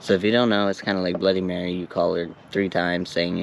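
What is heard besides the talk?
No everyday noises stand out.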